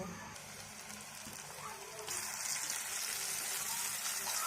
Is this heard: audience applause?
no